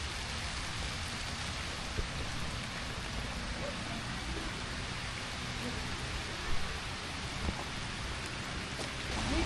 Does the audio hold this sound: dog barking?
no